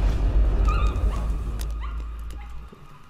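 A dog in the horror game Layers of Fear whimpers and gives short yipping barks, loud and near over a low rumbling background drone that cuts out near the end.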